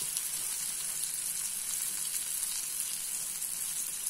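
Sautéed green chilli chutney with tamarind extract and asafoetida sizzles steadily in a pan while being stirred, an even close frying hiss throughout.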